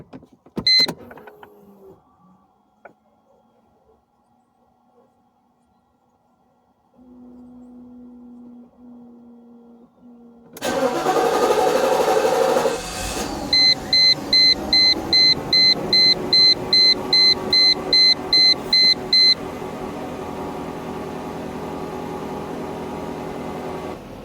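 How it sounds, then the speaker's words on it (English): A 1997 Mercedes SL500 R129 sits quietly with faint clicks and a hum as the key turns, then the engine cranks and starts with a sudden loud roar. A string of regular chime beeps follows, over a steady idle. "cranking it, and the car running."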